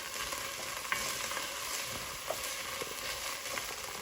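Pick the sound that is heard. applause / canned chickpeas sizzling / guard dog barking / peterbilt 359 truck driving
canned chickpeas sizzling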